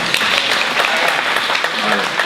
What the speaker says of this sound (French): alors on l'applaudit encore une fois